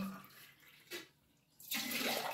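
Water runs into copper pots in a village home, a quiet pouring splash that stops briefly, then returns louder and fuller as the stream resumes.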